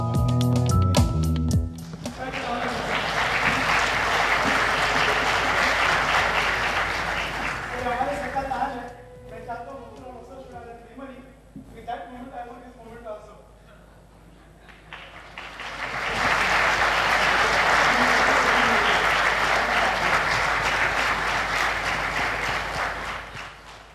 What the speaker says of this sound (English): a huge round of applause for our Mumbai Dabawalas